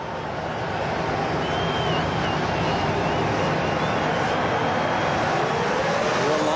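Formula One cars at the start of the 2007 Canadian Grand Prix, a dense, loud engine roar swelling and holding steady as the field pulls away, with a faint voice beneath.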